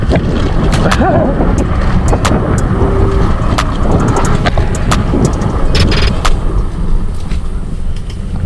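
A Jamaican motorbike running at speed, its engine droning continuously under heavy wind buffeting and road noise, loud and close throughout.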